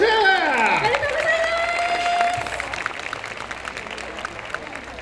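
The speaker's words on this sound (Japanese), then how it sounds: "大きな拍手、 おめでとうございます。" Steady crowd applause at an award ceremony for a yosakoi dance festival in Fukuoka, while a person's voice rises over it with a sliding, sung-out call, then the clapping continues more softly.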